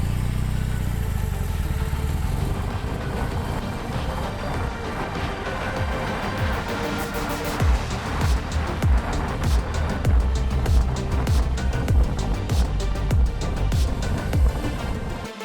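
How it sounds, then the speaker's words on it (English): A BMW R 18 motorcycle with a large boxer engine rumbles while riding, a deep throbbing note with changing revs and some wind noise, steady and close for the whole stretch. "This motor is just about torque. You just hear it's got this low rumble to it."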